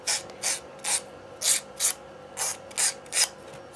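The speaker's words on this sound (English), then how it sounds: "now this one needs to just be trimmed ever so, well, filed ever so slightly" Artificial nail tip being filed, about nine short, even rasping strokes in a steady rhythm, close and clear against quiet background.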